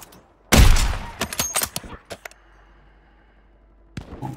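A single loud, close sniper rifle shot from the Katt sniper in a first-person shooter game, with a sharp blast and short echoing tail, followed by scattered game clicks and thuds, then quiet and a faint later thump.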